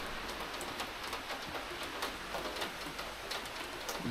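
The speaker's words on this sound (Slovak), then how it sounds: "prší" Steady rain in the High Tatras, pattering on a surface as an even wash of close drops with occasional sharper taps, with no voices.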